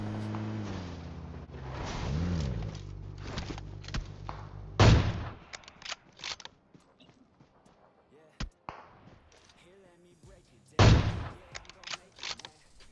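Sniper rifle gunfire in PUBG Mobile: two loud, sharp shots about six seconds apart rise out of quieter game sound, with an engine-like hum at the start and scattered short clicks between them.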